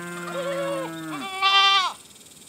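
Goats on a homestead bleat in two long, wavering calls close by, the second higher and louder, then a quiet pause.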